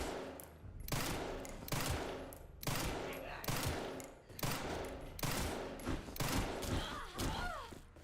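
Repeated bursts of automatic gunfire in Resident Evil Requiem, loud, close volleys roughly every second over a low rumbling game backdrop, with a brief creature-like screech near the end.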